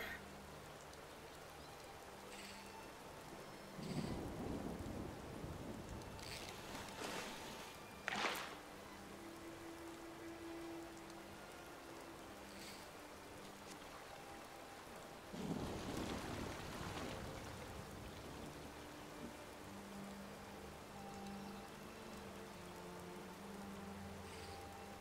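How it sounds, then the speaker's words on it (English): Steady rain falls in Skyrim during a fishing stop, a soft constant hiss of drops with a couple of brief louder gusts or splashes, no talking. "it started raining"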